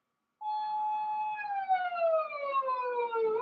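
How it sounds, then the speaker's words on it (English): Japanese police siren wails alone after a brief silence, a clear tonal call that holds steady then glides downward in pitch, fairly loud and continuous. "Police sirens in many countries"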